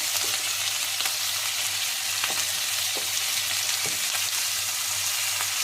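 Chicken pieces for Arabian chicken kabsa fry in a pan, giving a steady close sizzle broken by a few soft clicks and stirring taps as the pieces are turned, with no voices.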